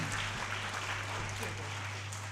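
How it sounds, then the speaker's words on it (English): An audience at a children's book release applauds a child, even sustained clapping over a steady low hum, moderately loud and continuous. "Shall we give a big round of applause for this child?"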